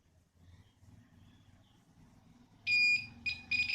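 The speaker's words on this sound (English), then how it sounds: "Hope you heard the sound from this buzzer. It is a loud sound." A 5-volt buzzer on a DIY multi tester with rechargeable battery, relay and LED sounds loud and close in the last second, beeping in two short bursts over quiet low handling noise.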